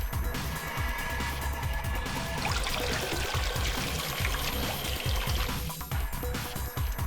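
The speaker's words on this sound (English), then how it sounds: "I wonder if the numbers have anything to do with the water that comes out of the machine." Water pours and trickles steadily from a machine in the Zero Escape: Virtue's Last Reward video game, a continuous liquid stream with small splashes running throughout, fairly loud and alone.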